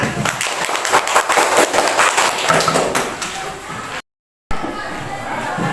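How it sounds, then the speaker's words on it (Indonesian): A school class applauds in a dense, continuous patter of many hands clapping nearby, steady for several seconds, briefly cut to silence, then resuming. "Oke, kita berikan tepuk tangan."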